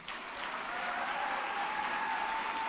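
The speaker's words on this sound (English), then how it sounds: "please another round of applause for His Excellency" Steady, faint applause rises from a large audience in a conference hall at the opening of a Global Data Festival and Kenya Space Expo, continuing as a diffuse wash without letup.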